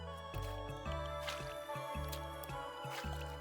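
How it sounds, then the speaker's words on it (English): Water is placed in the Minecraft video game: soft, faint liquid drips and squishy splashes repeat in an uneven rhythm over a quiet, droning tonal game background. "And we have our first water."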